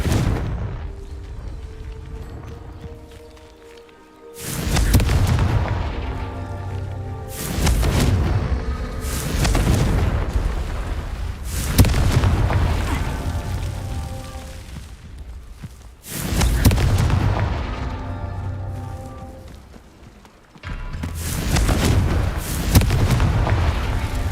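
Repeated Confringo blasting-spell explosions in the Hogwarts Legacy video game: five loud, broad booms a few seconds apart, each decaying into a rumbling tail over quiet game ambience.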